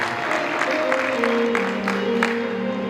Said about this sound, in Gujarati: એકવાર જોરદાર તાળીઓ બજાવો